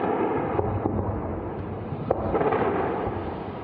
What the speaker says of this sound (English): Explosions were heard and seen over the sky in Tehran on Friday night